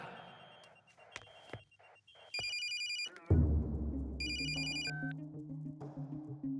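A phone ringtone chirps in two short electronic bursts over a low rumbling background, with a melodic tone sliding in near the end.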